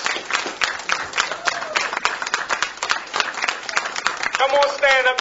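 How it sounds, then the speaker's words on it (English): Scattered, uneven applause from a modest audience at a Baltimore political event, individual claps audible, with a voice speaking over it toward the end. "Someone to give Ms. McKinney a round of applause."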